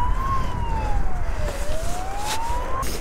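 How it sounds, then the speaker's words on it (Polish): Emergency vehicle siren from an ambulance and fire engines passing on a congested road, a single wailing tone sweeping down and back up steadily over constant traffic rumble, fairly close and loud. "Karetka. Dwie straże."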